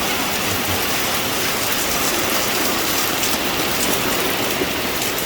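Steady, dense rainfall patters continuously on surfaces, close and even throughout with no talking.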